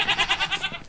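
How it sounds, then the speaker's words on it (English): Speckled goat in the Minecraft video game bleating in a quick run of five or six wavering, nasal pulses, close and clear, with no talk over it. "There's a little speckled goat out here."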